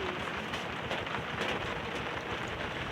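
Steady rain sprays in through a side fence of a village home, a soft continuous hiss of falling water with no distinct drops standing out, fairly quiet and without voices.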